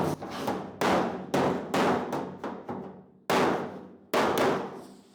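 Hammer-and-dolly blows straightening a dent in the sheet metal of a 1951 Ford, a run of sharp, loud metallic strikes at an irregular pace, each ringing briefly before the next, with short pauses between groups.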